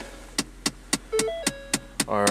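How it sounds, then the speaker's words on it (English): A car's blend door actuator clicks during a cold start in winter, about eight sharp, evenly spaced knocks roughly every quarter second over a steady low idle hum, with a brief tone near the end. "Our blend door actuator is doing that clicking noise again."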